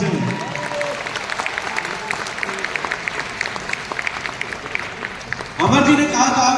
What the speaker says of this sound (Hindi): मैं चाहूंगा मिस्टर अमरनाथ पुरोहित जी के लिए एक बार जोरदार तालियां होनी चाहिए।